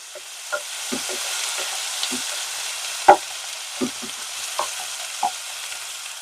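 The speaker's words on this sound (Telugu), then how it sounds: "కొంచెం అల్లం వెల్లుల్లి పచ్చివాసన పోయేంత వరకు ఆయిల్లో వేయించుకోవాలండి" Ginger garlic paste sizzling in hot oil for a drumstick chicken curry, a soft steady fry with scattered spoon scrapes and one sharp clink, no talking.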